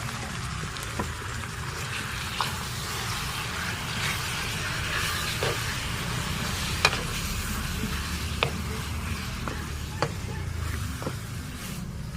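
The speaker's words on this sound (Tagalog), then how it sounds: "Ilagay ko na rin itong ating pork giniling." Ground pork and onion frying in a pan, a steady soft sizzle with occasional sharp clicks of a spatula stirring, close and continuous at moderate level, no talking.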